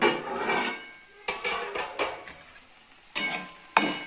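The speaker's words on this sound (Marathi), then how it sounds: "आता झाकण न ठेवता अशी परतत राहायची भेंडी, खालीवर खालीवर" Okra sautéed uncovered in a pan for a Marathi bhendi bhaji, a spatula scraping and clanking against the metal in bursts with short pauses between, close and fairly loud, no voices.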